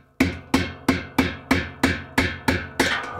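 Repeated hammer blows knock a stuck pulsator assembly off its shaft in an LG/Kenmore top-load washer, about nine sharp metallic strikes at a steady rhythm, close and loud with ringing decay and no talking.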